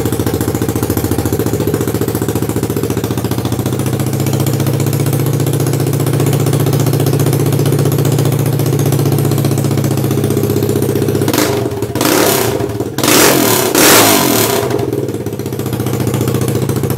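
A Kawasaki KLX140 dirt bike idling loudly up close with its muffler removed, a raw, steady, rapid engine putter that holds for a long stretch before a few rougher blips and revs near the end.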